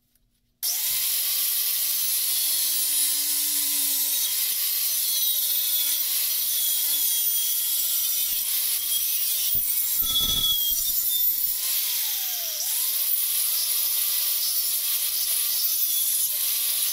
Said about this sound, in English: Now what I'll do is take it to the other grinder and clean up that edge.